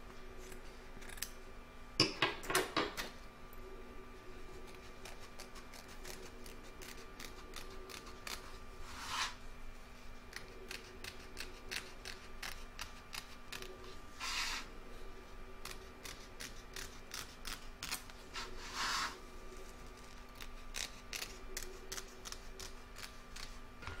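Scissors trimming a fabric pig appliqué after zigzag embroidery, a long run of small crisp snips, quick clustered clicks broken by a few louder rustling bursts, close and quiet with no talk.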